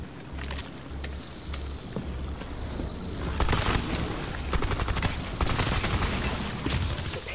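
Sustained gunfire in Rainbow Six Extraction as squad weapons shoot at an alien arc tree's anchor points, with bursts of shots growing denser and louder in the second half over a low rhythmic game pulse.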